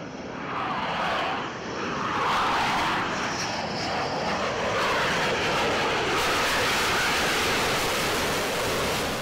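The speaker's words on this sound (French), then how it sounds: "le Rafale" A Dassault Rafale fighter jet roars past at an air base in Landivisiau, a broad, loud, rushing jet noise that swells and sustains without letting up, with no voices.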